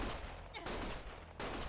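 Gunshots go off in the video game Lost Judgment in a quick, loud, dense burst, with two sharp breaks across under two seconds.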